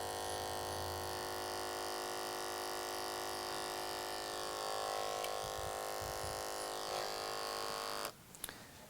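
Electric hair clippers fitted with a quarter-inch blade buzz steadily and close up while fading and blending short, straight men's hair at the temple. The hum stays constant with slight shifts in pitch, then cuts off near the end.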